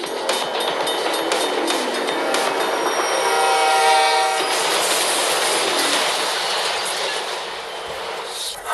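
A train rumbles past nearby with its horn blaring in a sustained tone midway, amid rushing wheel noise that builds and then eases off.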